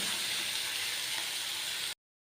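Okra (lady finger) sizzles in oil at medium heat, a steady close hiss lasting about two seconds before it cuts off abruptly.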